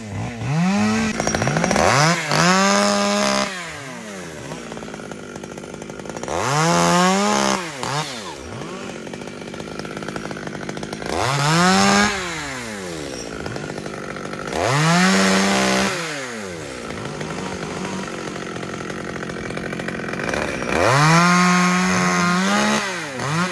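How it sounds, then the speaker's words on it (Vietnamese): Chainsaw cutting through Taiwanese mango trees, in repeated loud bursts of revving, each rising and falling in pitch as the blade bites into the wood, separated by short idling pauses, close by and with no talk. "Bên sau lưng mình là anh Trường cũng đang cưa những cây xoài Đài Loan."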